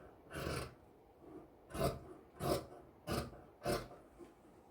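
Scissors cutting fabric for a blouse sleeve, five or six distinct rasping snips in a loose rhythm, close and fairly quiet, with no talking.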